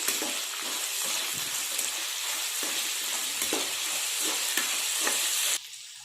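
Poha upma is stirred with salt in a hot pan, giving a steady close sizzle and frying hiss with repeated scraping stir strokes, which cuts off abruptly near the end.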